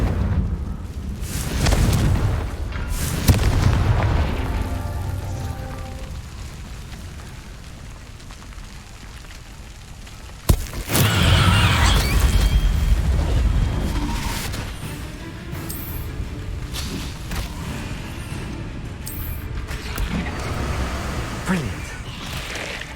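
Confringo blast spells explode in Hogwarts Legacy in a few loud booming bursts, with a sharp crack midway followed by rumbling debris and combat noise, under a voice.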